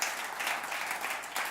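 Congregation applauding during a church sermon, steady dense clapping throughout without voices on top.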